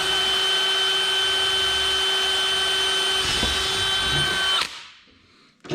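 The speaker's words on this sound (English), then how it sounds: "So you're gonna drill your hole through your Hyfax." A power drill bores a hole through a Hyfax slide rail on an Otter sled, whining loud and steady at close range before the motor cuts off and winds down.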